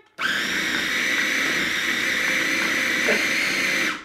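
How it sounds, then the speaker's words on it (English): A food processor whirs steadily through a thick chocolate crisp protein bar mixture, a loud continuous high-pitched motor drone that starts abruptly and runs for several seconds without talk. "I definitely need to get a bigger food processor."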